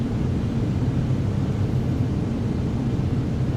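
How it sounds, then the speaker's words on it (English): Piper Comanche 250 single-engine propeller plane in a flight simulator, flying over Liverpool, with a steady, loud, low droning engine rumble held at constant pitch throughout and no voices. "I love the sound of the Commanche."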